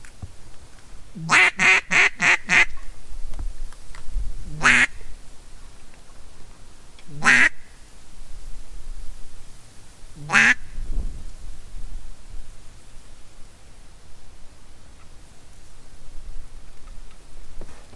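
Mallard ducks quack overhead in a quick burst of five calls, followed by a few single quacks spaced seconds apart, clear against a low rumbling background from a boat.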